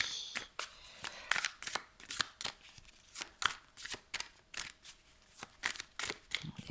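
Tarot cards shuffled and drawn at a reading: a steady run of crisp, papery flicks and riffles repeating through the whole stretch, close and moderately loud, with no talk.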